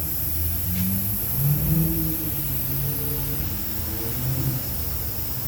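A 2013 Dodge Avenger engine runs steadily at idle, a constant low hum with faint wavering tones and a slight swell in the middle, with no one talking.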